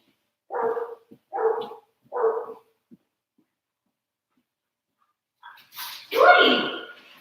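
A dog barks three times in quick, evenly spaced bursts, loud and close, followed by a pause of silence and then a person's voice speaking.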